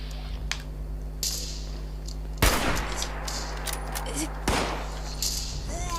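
Gunshots in the video game Fallout 76: two loud, sharp bursts of gunfire stand out over a steady hum of game ambience, with scattered fainter clicks and thuds between them.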